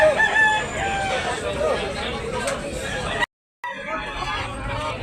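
A white-legged, round-headed medium-size rooster crows at a Cebu gamefowl sale, a clear call ringing out over steady crowd babble and nearby talk, cut by a brief dropout near the end.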